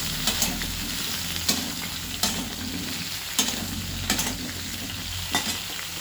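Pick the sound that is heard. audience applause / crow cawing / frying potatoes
frying potatoes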